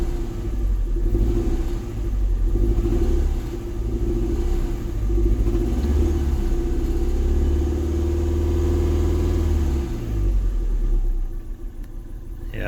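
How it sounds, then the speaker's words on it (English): A Japanese-market Toyota MR2 Mk2 GT T-bar turbo, not run for over five years, idles roughly with a misfire, its low uneven rumble rising under light throttle blips before settling near the end. "it seems to be just misfiring low down. If I just blip the throttle slightly."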